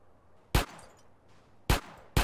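Three sharp gunshots ring out in the video game GTA San Andreas, one single crack followed after a pause by two quick closely spaced shots, loud against a quiet background.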